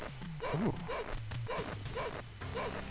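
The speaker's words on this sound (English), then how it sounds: "A little bit of scratchy audio there with the dogs barking too." Dogs bark repeatedly in a video game, a series of short yaps over rough, scratchy, crackling audio with a low background hum.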